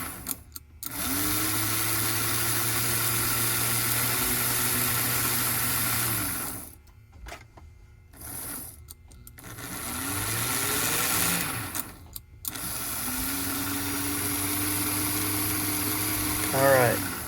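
The electric motor of a restored vintage 1948 #350 engine runs with a steady, nearby whirring whine. It cuts out and restarts several times, then speeds up briefly before settling back into an even hum.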